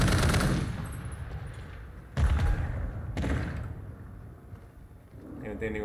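Automatic machine-gun bursts from the RAAL MG in Call of Duty multiplayer, with a heavy opening burst, a sharp second burst around the middle and a third shortly after, close and loud over game noise and talk.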